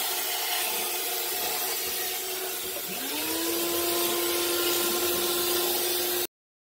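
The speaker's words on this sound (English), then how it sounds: "We'll get the vacuum on for you." A shop vacuum on a sandblast cabinet starts up under a rushing noise, its motor whine rising and settling into a steady, loud, constant tone that holds until the clip cuts off.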